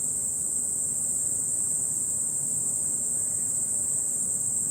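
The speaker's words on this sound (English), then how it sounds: "Oh, you can hear the cicadas though." Cicadas droning outside on a hot day, a steady high-pitched buzz that holds without a break, with a faint wash of ambient noise beneath and no voices.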